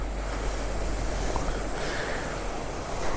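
Monsoon waterfalls pour beside a mountain ghat road at Charmadi Ghat, a steady broadband rush of falling water with wind noise that holds evenly throughout, with no voices.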